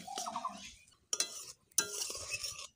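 Eggplant pieces stirred with salt, turmeric and spices in a pan, three short scraping bursts of a spoon against metal separated by quiet gaps, fairly soft.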